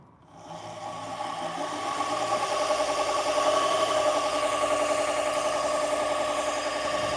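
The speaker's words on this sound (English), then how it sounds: "So I'll sharpen edge leading at 2000 RPM." Knife sharpening machine spinning up at 2000 RPM, a steady whirring hum that starts after a brief quiet moment and holds at a constant level, close and alone.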